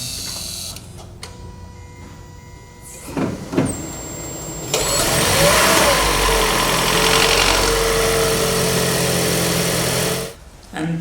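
A Toyota Prius V engine starts and settles into a steady idle during an oil and filter change, with a broad, even running noise that holds for several seconds and then cuts off near the end, after some clicks and handling sounds at the start.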